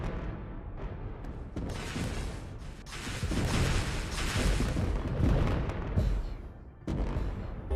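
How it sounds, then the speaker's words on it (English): Rockets fire and explode in a War Robots battle, a dense rumbling barrage of booms and blasts that swells louder midway, with no talking. "Have some rockets."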